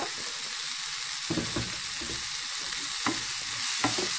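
Salted onions and peppers fry in a pan, stirred with a utensil: a steady close sizzle with several scraping strokes spread across the clip.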